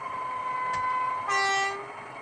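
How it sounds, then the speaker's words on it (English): A small electronic horn on a Class 31 model diesel locomotive sounds a tonal blast over a steady mechanical hum, preceded by a brief click, fairly close and loud. "I think this horn sounds a bit strange on"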